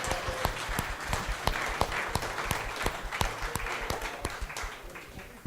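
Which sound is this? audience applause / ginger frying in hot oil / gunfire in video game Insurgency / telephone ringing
audience applause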